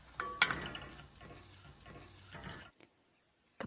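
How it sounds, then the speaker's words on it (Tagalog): Breadcrumb mixture for Spanish bread being stirred in a bowl, soft continuous scraping and swishing with a brief clink near the start, then stopping into near silence. "Ilagay din natin ang kalahati ng breadcrumbs. Haluin ito ng mabuti."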